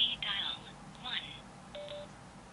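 Phone dialing tones set off by a Sena 20S Bluetooth headset's speed dial voice command, a few short electronic beeps in succession, clear and fairly close.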